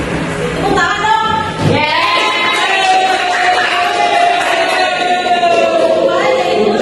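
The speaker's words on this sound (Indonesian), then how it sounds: "Tepuk tangan dong." A classroom of students claps and cheers together in a dense, steady burst of noisy applause that runs throughout, with excited voices whooping over it.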